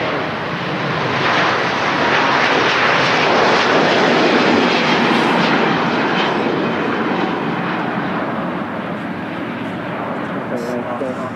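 Cathay Pacific Airbus A350 airliner rolling for takeoff at Manchester Airport, a loud, steady broadband engine roar that swells and holds throughout, with people talking over it.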